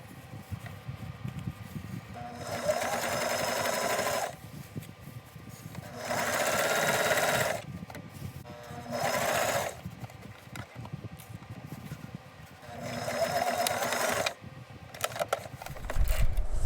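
Sewing machine tapering a seam on a suit sleeve and its lining, running in four separate close bursts of rapid mechanical chatter with quieter gaps between them.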